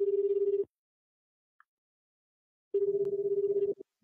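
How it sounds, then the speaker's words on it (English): A telephone rings in two bursts, a short ring at the start and a longer one after a pause of near silence, loud and close with no talk over it. "you must answer the phone"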